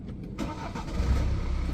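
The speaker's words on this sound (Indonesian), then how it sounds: "kita tinggal tekan start button di sebelah kiri sini untuk menyalakan mesinnya" A BMW X5 F15 SUV engine cranks and catches after a push of the start button, rising into a steady low idle rumble, heard from inside the cabin without talking.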